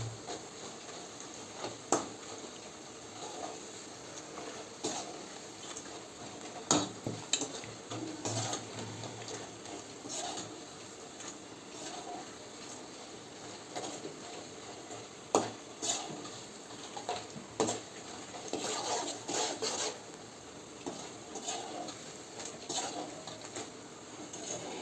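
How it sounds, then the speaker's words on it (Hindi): Nimki dough strips frying in refined oil in a pan over medium heat, stirred now and then: a faint, steady sizzle with soft irregular clinks and scrapes of the spoon, quiet and without voices. "इसी तरह चलाते हुए फ्राई करना है।"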